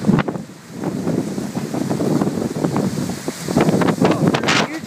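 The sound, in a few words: strong wind gust during a storm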